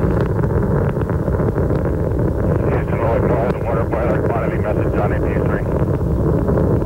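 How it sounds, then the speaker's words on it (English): Space Shuttle Atlantis roars during its 1997 night launch, a steady, dense rumble with no gaps as its three engines throttle down through maximum aerodynamic pressure, with a voice faintly over it. "Three engines throttling down now."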